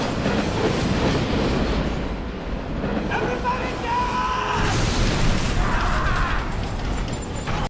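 A train rolls along its rails with a steady, loud rumble and rhythmic clatter of wheels over track joints, with brief squealing tones in the middle and talk faintly mixed in.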